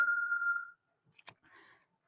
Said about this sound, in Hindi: पापा का फोन है